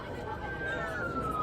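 A police car siren wails steadily with a slowly falling tone, sounding fairly close inside the car under a background of people chatting.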